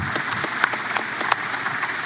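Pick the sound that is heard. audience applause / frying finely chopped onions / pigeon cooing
audience applause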